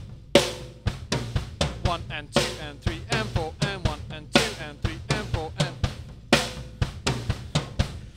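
A rock beat played on a high tom and then a floor tom: punchy, evenly spaced drum hits with short decays, over a voice counting the beat aloud.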